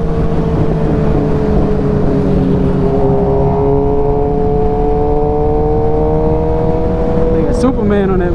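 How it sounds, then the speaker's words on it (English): Road traffic heard from a Suzuki GSX-R 750 ride, a steady roar of passing vehicles with engine tones slowly shifting pitch, loud and continuous throughout. "traffic, bro."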